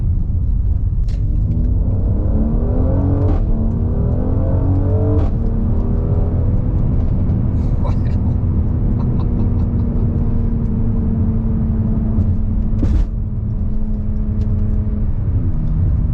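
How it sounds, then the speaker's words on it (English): A 2019 Mercedes-Benz GLC 43 AMG accelerates hard on an open road, its engine a loud, continuous drone that climbs steadily in pitch through the gears, with no voices. "So what's it like when you really open it up on the open road?"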